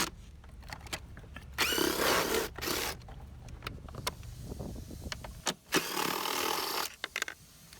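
A power ratchet or driver whirs in bursts, removing bolts from the battery cover of a 2018 Jeep Wrangler JL, close and loud with clicks between runs.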